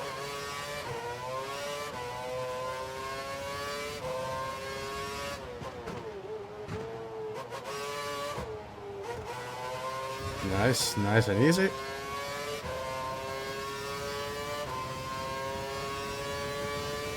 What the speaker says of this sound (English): We think the car behind is running on full revs. He's trying to close the gap.